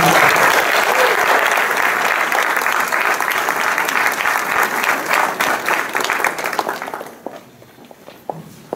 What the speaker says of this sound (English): Let's give another round of applause for Clarissa and Jacqueline.